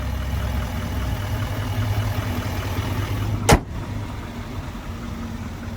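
A Chevrolet Silverado 2500HD with the 6.6-liter Duramax diesel idles in a steady low rumble close by, with a brief sharp click or knock midway before the even idle carries on.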